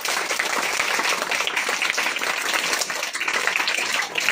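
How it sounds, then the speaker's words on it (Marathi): An audience gives a sustained burst of loud, dense applause during a spoken storytelling event about the 26/11 Mumbai attack, steady clapping filling the whole moment. "त्या पोलिसासाठी एक पळी जोरात टाळ्या त्याच्या"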